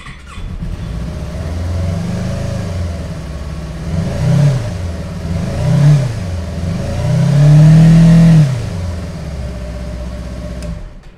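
A nearby motorcycle engine idles, then revs up several times in rising surges, the last one loudest and longest, before settling back to idle.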